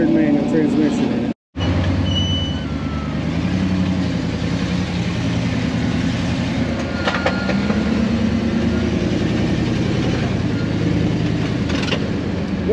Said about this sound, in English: That's definitely a smooth Jeep. Most wouldn't know that, but it's got an MB4500 manual transmission in it.